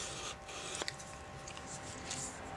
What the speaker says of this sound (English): you can go side to side with this file. And you want to put even pressure on filing the vein.